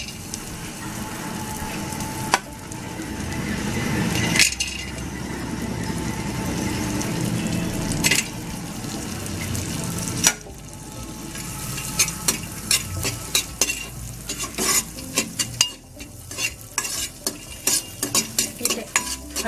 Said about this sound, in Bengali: বাটার দিয়ে আমি ড্রাই ফ্রুটসগুলো একটু ভেজে নেব।